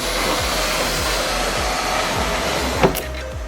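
Dodge RAM power window motor wired directly to power, giving a steady, close electric whir that runs throughout with a faint repeating low thump and one brief click near the end.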